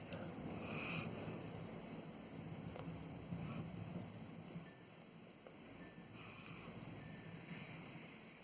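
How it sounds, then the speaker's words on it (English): Steady wind blows outside a garage, a continuous broadband rush with gusty swells, fairly loud and constant, with no talking over it. "Listen to that wind."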